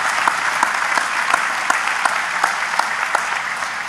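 Steady, fairly loud applause from a graduation audience, with dense clapping sustained throughout and a few sharper claps standing out.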